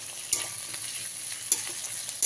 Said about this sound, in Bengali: এক পিস বড় টমেটোকে কুচি করে কেটে নিয়েছি, এর মধ্যে দিয়ে দিলাম। দিয়ে এবার ভালো করে একটু ভেজে নেব।